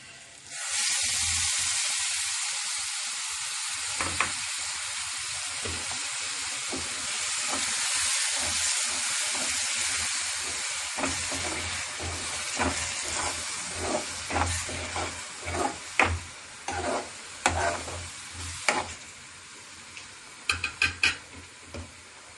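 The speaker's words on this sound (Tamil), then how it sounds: "இந்த மாதிரி சிவப்பான உடனே இந்த அரைச்சி வச்ச தக்காளியை ஊற்ற போகிறேன்." Ground tomato paste poured into hot oil for baby corn masala, frying with a steady sizzle and hiss, followed by a run of scraping stir strokes and pan clinks that grow more frequent toward the end.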